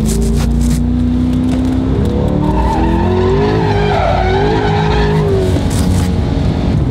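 A Corvette C8 drifts with a long, loud tire squeal rising and wavering over a constant engine roar, the screech fading near the end.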